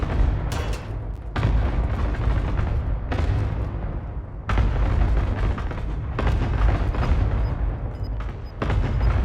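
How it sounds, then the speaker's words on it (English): Cluster strike explosions in Call of Duty Warzone land as a rapid series of loud, heavy booms and rumbling blasts, crowding one another over several seconds with brief gaps between bursts. "Enemy cluster strike incoming."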